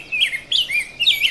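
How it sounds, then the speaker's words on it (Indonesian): A small bird chirps in quick, bright bursts, three short warbling phrases close by with brief gaps between them. "Itu ada suara burung."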